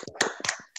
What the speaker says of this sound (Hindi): शानदार तालियां आप सबके लिए।